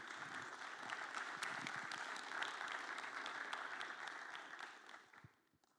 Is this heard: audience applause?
yes